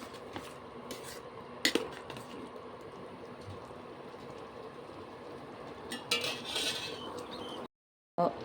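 Spoon scraping and clinking in a pan while a sweetened mixture for kuzhakatta is stirred, soft irregular scrapes with a couple of sharper knocks, fairly quiet and close, no talking.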